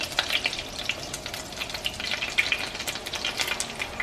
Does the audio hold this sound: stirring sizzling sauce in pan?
yes